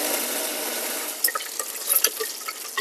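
Garlic, fenugreek, mustard seeds, cumin and dried red chillies fry in hot oil with a steady sizzle, broken by sharper crackles and pops toward the end.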